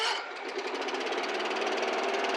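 A moped engine runs steadily at a buzzing, rattling pitch, starting abruptly and holding an even, loud drone throughout with no voices over it.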